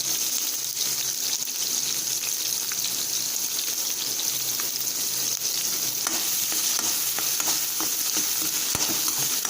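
Cauliflower and onions fry in a pan for gobi 65 with a dense, crackling sizzle and scattered stirring clicks, steady and close with no talking.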